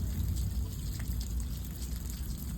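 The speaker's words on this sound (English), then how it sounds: "Yeah, it is just dripping, almost finishing up." Rain dripping as a storm winds down in an Arizona City front yard, a soft steady wash of water with a low rumbling undertone, faint and continuous with no voices.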